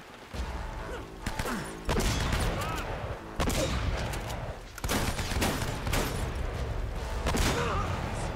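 Enemy gunfire in the video game Uncharted: Drake's Fortune: loud bursts of shots and sharp impacts crackle through dense, busy game noise for the whole stretch, with several heavy hits landing at intervals.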